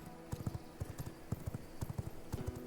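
Horse hooves clip-clop in the V Rising video game, a steady run of quick hoof strikes in an uneven galloping rhythm over low background sound, no voices.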